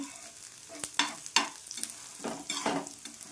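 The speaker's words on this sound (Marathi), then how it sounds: "बघू शकता छानपैकी लाल होता आहे कांदा व्यवस्थित भाजला" Onion browns in oil for drumstick sabzi, a close sizzle punctuated by several quick spatula scrapes and taps against the pan, irregular in rhythm, with no voices.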